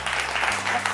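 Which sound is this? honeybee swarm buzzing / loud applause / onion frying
loud applause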